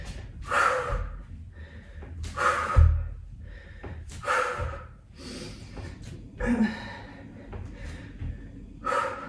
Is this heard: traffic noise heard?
no